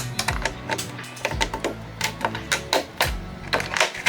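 Scissors snip little by little through a jumbo holiday treat board, a quick run of crisp, close cuts in an uneven rhythm, fairly loud and with no voice over them.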